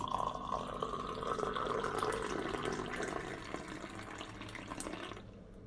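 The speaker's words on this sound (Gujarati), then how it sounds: "આ મેં લીધેલું છે ગરમ પાણી એ હું ઉમેરીશ" Hot water pours steadily into a glass with lemon for several seconds, a continuous close splashing trickle that tapers off near the end.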